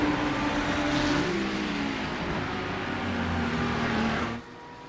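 A GT3 race car engine in a sim racing game, with a Ferrari among the cars, drones loudly and steadily with shifting pitch for a few seconds, then cuts off abruptly.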